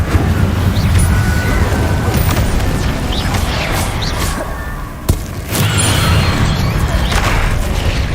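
Spell blasts from Confringo and Incendio detonate in Hogwarts Legacy, a dense sequence of booms and crashes layered with whooshes over a continuous rumbling battle din, with one sharp crack standing out midway.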